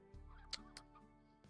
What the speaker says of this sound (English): We have more chickens.